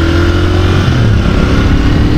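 A Royal Enfield Interceptor 650 twin-cylinder motorcycle pulls hard in third gear, its engine drone loud and close with steady rumbling and rising pitch under strong wind noise.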